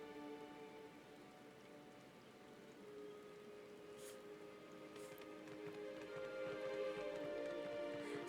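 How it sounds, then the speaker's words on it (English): Steady rainfall in Final Fantasy XIV, a soft continuous patter of drops on surfaces with faint scattered splashes, layered under sustained in-game music tones that swell slightly toward the end. "This place is so cool in the rain."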